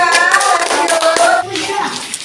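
A classroom of children claps for a group of classmates, a brief burst of fairly close hand claps with children's voices mixed in.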